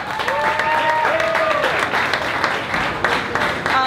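Live audience applauding a poet at a spoken-word show, steady dense clapping with a few cheers and whoops rising over it, close and loud throughout.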